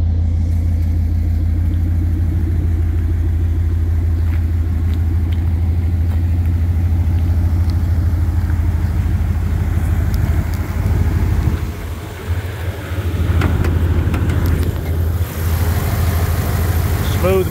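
A 1992 Dodge Dakota 4x4 with a 5.2 engine and dual exhaust idles smoothly and loudly close by, a steady low rumble that holds for the whole stretch with a brief dip near the end.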